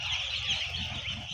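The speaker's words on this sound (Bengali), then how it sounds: "আজকে এই মুরগিগুলার 2 দিন বয়স চলতেছে।" Two-day-old chicks on a poultry farm, a dense continuous chorus of high peeping from many birds at once, close and steady with no talking.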